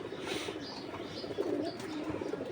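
Pigeons kept in a home loft give soft, low cooing calls that repeat throughout, with a faint chirp and some general background noise and no speech.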